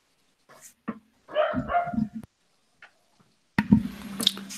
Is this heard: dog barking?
yes